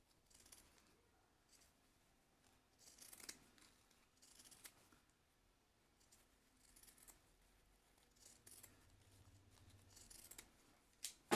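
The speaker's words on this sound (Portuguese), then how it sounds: "Esse excesso eu gosto de tirar com tesoura de picote." Pinking shears snip away excess fabric while sewing a passport and work-card wallet, making a few bursts of close, crisp cutting sounds separated by quiet pauses.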